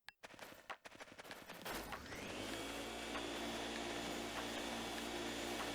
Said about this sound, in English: The Poltergust 3000. Use the R button to vacuum